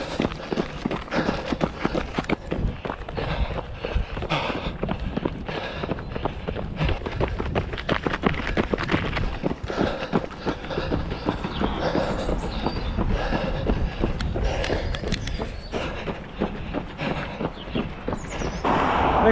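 A runner's footsteps pound in a quick, steady rhythm during a solo 10K time trial on the road, close and continuous, with heavy breathing and wind rushing over a handheld action camera.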